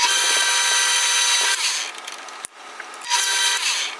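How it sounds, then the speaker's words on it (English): Drill press boring a hole in a rod with a 7/32 bit, a high steady whirring with grinding and scraping, briefly easing off mid-clip before cutting again. "at the drill press, I can drill a hole in the center, and I'm just going to use a 7/32 bit"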